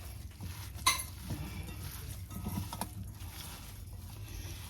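Camping ingredients seasoned with salt, pepper and garlic powder are stirred together in a pot, giving soft scraping and clinking of a utensil with one sharper clink near the start. The sound sits against a steady outdoor background.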